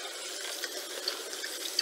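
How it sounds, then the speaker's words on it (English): Cold tap water runs steadily over sliced leeks being washed for a Macedonian potato and leek soup, a soft continuous splashing close by with a few small bright spatters, no voices. "start running cold water"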